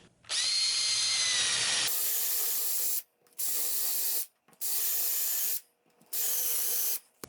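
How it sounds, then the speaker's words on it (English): A drill with a 1-inch Forstner bit whirs loudly in a long burst, then in three shorter bursts separated by brief pauses, boring a shallow hole, close by with no speech. "To drill the hole, I'm just going to use a Forstner bit in this 1 inch diameter"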